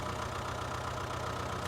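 A tractor engine in Farming Simulator labouring up a slight incline, a steady low droning rumble with a throbbing pulse, heard alone and fairly close throughout the short stretch.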